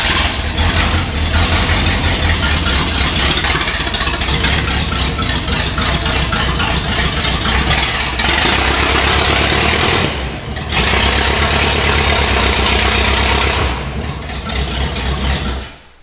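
Rough, loud idle of an old Pontiac engine abandoned for 48 years, running on only four cylinders; a steady uneven mechanical rumble close by, briefly dipping around the middle and fading at the end.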